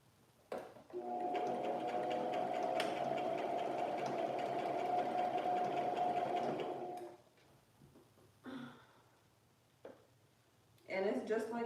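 A sewing machine driven by a foot pedal used for dress making runs steadily at a constant speed for about six seconds, then stops; quieter handling noises and brief talk follow.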